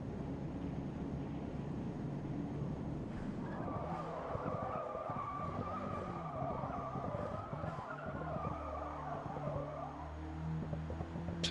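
Car tyres skid and squeal in Forza Motorsport, a long continuous screech over a racing engine drone, steady and fairly loud, no talk.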